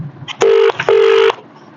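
A telephone call rings out: a couple of short beeps, then two long, loud electronic ringback tones separated by a brief gap, heard alone without speech.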